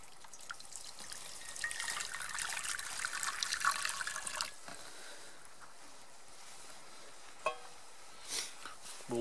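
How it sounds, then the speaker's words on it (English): Water trickles and pours into a cast iron skillet over a campfire in the woods, a faint continuous splashing for about four seconds, then quieter with a few isolated drips and small knocks. "back on the water, back on the fire, put some more water in it"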